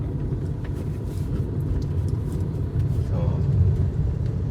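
A Skoda Rapid 1.5 TDI with a manual gearbox drives along with a low, steady engine and road rumble from inside the cabin, and someone talks over it throughout.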